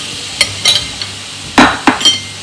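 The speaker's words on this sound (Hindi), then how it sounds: "अब इस फ्राइंग पैन में मैं चिकन जो मैरिनेट किया हुआ था मैंने स्पाइसेस ऐड करके, तो उसको थोड़ी देर के लिए कुक करेंगे" Marinated, spiced chicken tossed into a frying pan makes a handful of sharp clatters and brief sizzling bursts, several close together near the end, over a quiet kitchen background.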